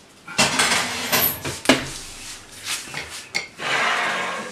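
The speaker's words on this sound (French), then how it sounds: "Je mets mon pain sur une grille." Freshly baked garlic bread loaf set down onto a metal cooling rack, giving a few close clattering metallic knocks and scrapes with short gaps between them.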